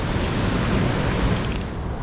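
Rapids and waterfalls on the Nymboida River make a steady, dense, close roar of rushing whitewater that never lets up, with no voices over it.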